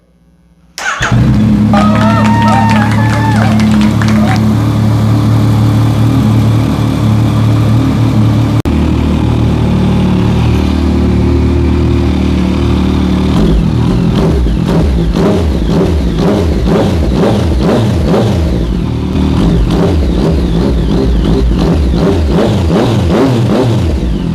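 Yamaha FZ-09 motorcycle with a flashed ECU, airbox mod and Sprint filter starts up and idles loudly, then revs repeatedly in sharp bursts up close, with faint talk in the background.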